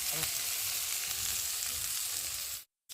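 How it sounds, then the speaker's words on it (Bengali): Morola fish frying in oil give a dense, loud, continuous sizzle up close, cutting off abruptly near the end. "আর এখন আমি একে একে মাছগুলোকে ভেজে নিয়ে"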